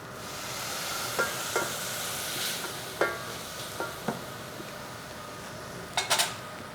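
Spices are stirred in a pan for mutton curry, a soft steady hiss underlying scattered light scrapes and clinks of a utensil against the pan, fairly close and without talk.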